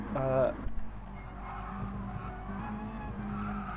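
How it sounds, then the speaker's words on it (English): A race car in a racing video game at Suzuka skids briefly with oversteer after running onto the grass, a short squeal at the start giving way to a steady engine drone, with commentary spoken over it. "Happy Hippie already hit the grass himself and got the oversteer"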